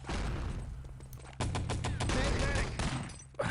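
Rapid rifle fire in the Enemy Territory map Malibu, heard as dense, loud strings of cracking shots in quick succession with a final sharp report.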